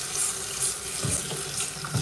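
Extremely hot water runs steadily from a tap into a sink, a loud continuous splashing rush with small gurgling fluctuations and no talking.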